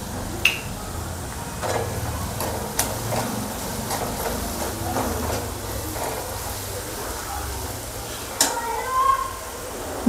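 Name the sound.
onion frying and being stirred in a pan for kachori filling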